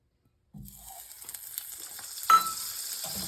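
Butter melts and sizzles in a pan, a soft continuous frying hiss starting after a moment of silence, with a brief clatter midway and a quiet close crackle throughout.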